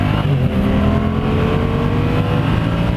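A 2015 Yamaha FZ-07 motorcycle engine pulls hard in third gear, a loud sustained roar with steady rising tone and heavy wind rush close up, no talking.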